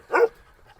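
A Kangal dog gives one short, loud bark-like yelp with a whimpering edge, alone and close, followed by quiet.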